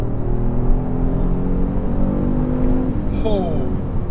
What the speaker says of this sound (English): turn off traction control and stability control, foot down on the brake, mash the gas, launch control ready